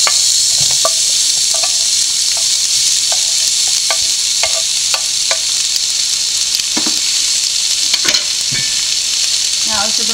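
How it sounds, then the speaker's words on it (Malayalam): Sliced onions sauté in hot oil in a pan while mutton peralan is being cooked, giving a loud, steady, close sizzle with occasional light stirring knocks and no talking. "നമുക്കിനി സവോള വഴറ്റാം."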